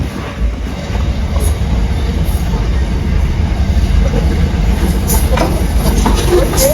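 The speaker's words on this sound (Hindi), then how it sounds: "ट्रेन आ रही है इधर से" A train passes nearby, a steady loud rumble of rolling wheels and rail clatter that holds throughout, with faint voices underneath.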